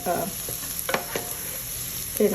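Food frying in a pan for a King Ranch casserole is stirred, with a steady sizzle and a few sharp utensil scrapes.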